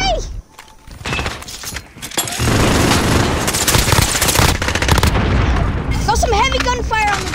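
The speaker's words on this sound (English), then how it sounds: "Some heavy gunfire on the" Heavy gunfire in Call of Duty: Modern Warfare II during a Halloween event, aimed at a juggernaut: rapid automatic bursts and booming explosions, loud and continuous, with brief electronic tones near the start and end.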